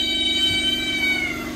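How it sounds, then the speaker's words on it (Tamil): A domestic cat in a home where around twenty cats are kept gives a loud, sustained meow that lasts throughout, close and clear. "பூனை அங்கே நம்ம வீட்டில் ஒரு 20 பூனைகள் வளர்க்குது"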